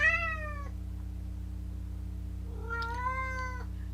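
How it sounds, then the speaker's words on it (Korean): A pet cat lets out two clear, close meows, a short one at the start and a longer one a couple of seconds later, against a low steady hum. "우리 고양이가 소리를 좀 냈습니다."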